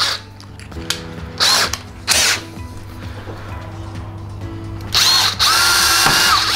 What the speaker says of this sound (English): Drill through the masonry until you hit the lintel